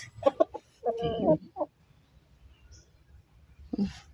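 A few chickens cluck in short bursts close by as they are fed coconut meat, with a quieter cluck later after a pause and faint background noise.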